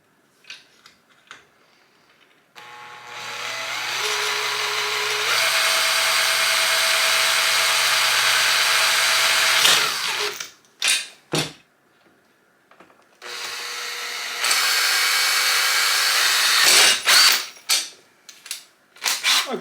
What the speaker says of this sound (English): Okay then, with the holes drilled, it should be just a matter of popping the bolts in.